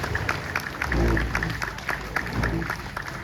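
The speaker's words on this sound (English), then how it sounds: "Another huge round of applause, ladies and gentlemen, for the wonderful performances." Applause from an audience at a Republic Day reception at India House, Jamaica, following stage performances; a steady crowd of clapping fills the whole stretch, dense and sustained with no speech over it.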